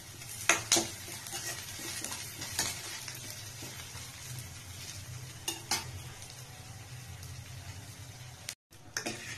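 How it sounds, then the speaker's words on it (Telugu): A vegetable biryani masala mix fries in a pan while a spatula scrapes and taps the metal, giving a soft continuous sizzle under repeated stirring clatter, fairly quiet and close, with a brief drop out near the end. "ఇట్లా ఫ్రై కావాలి మొత్తం."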